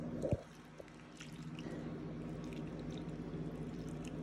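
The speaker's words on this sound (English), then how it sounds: "And in goes the water," One and a half cups of water poured into a baking dish, a soft liquid trickle and drip that follows a brief knock, quiet and close over low room hum.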